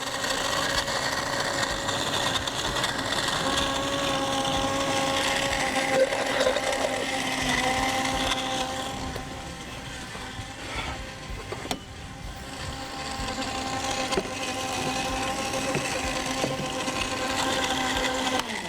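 A kitchen blender whirs steadily as it blends a syrup drink with ice and a little water, a loud, continuous motor whine with a slight dip midway and no talk over it.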